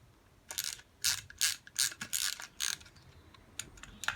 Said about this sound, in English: just gonna wind these studs in, which then push through.